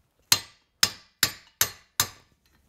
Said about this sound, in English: now I switch to the 5/16 pin punch because it will go right through the center